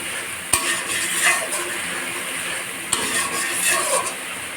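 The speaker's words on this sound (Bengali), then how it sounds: "দেখো মশলাটা ভালো করে কষিয়ে নিচ্ছি" Spice paste for a meat curry fries in a pan while being stirred, a loud continuous sizzle with a couple of sharp metal clinks from a spoon against the pan, no voices.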